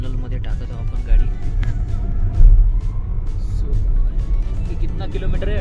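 A car engine rumbles steadily at close range as the vehicle drives into the Atal Tunnel near Manali, with low road noise throughout and people talking over it.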